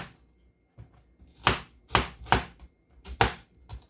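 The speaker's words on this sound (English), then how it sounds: "Give it a rough chop." Rough knife chopping on a cutting board while batch cooking lunch, a few sharp, separate strikes: a pair close together, another pair, then one more, near and fairly loud.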